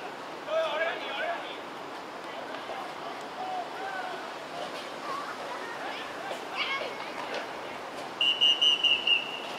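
A referee's whistle shrills at an American football game, several short sharp blasts near the end over steady crowd noise and a broadcast commentator talking.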